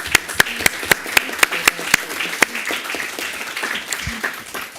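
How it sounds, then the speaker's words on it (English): An audience claps at a youth climate adaptation forum, a run of sharp, evenly spaced handclaps heard close, fading into a quieter room murmur toward the end. "please join me again with a big applause"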